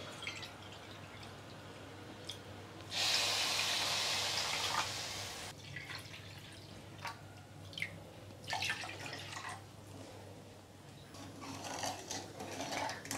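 Water poured from a cup into a wide pan of sugar to make syrup for gulab jamun, a brief hissing pour followed by scattered drips and light clinks of the pan, heard up close and alone.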